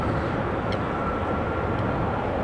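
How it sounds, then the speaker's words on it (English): A Delta Airbus A350 taxiing toward runway 24 at Amsterdam Schiphol, a steady low broadband engine rumble and hiss, continuous and fairly close, with no talk over it. "Delta A350 back on the move to runway 24."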